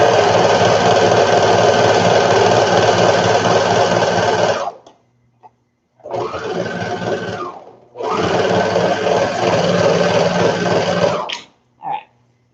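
A three-needle sewing machine runs loud and close in long steady bursts, stopping briefly between runs while sewing fabric edges for baby ruffle bloomers.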